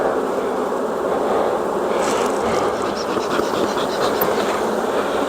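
Honeybees buzzing in a steady, dense drone at the front of a full corner hive, close by and continuous, with no talking.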